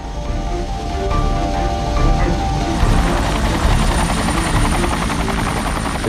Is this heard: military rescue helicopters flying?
yes